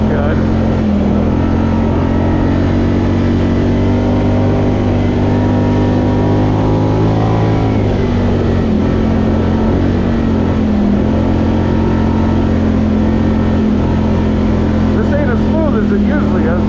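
A Polaris Scrambler 1000 ATV engine running loud and close while riding a snowmobile trail, a constant droning hum with slight pitch shifts as the throttle changes, unbroken for the whole stretch.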